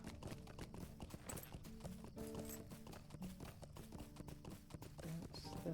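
Horse hooves clip-clop steadily in the video game Lord of the Rings Online, in Bree-Land, a quiet, rhythmic clatter heard alone beneath faint game ambience.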